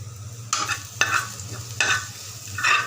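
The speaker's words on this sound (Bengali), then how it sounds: "পেঁয়াজ, রসুন আর কালো জিরে ভাজি করে নিলাম।" Onion, garlic and black cumin being stirred and fried in a pan, with repeated scraping bursts of a spatula over a steady low sizzle, close up and fairly loud, no voices.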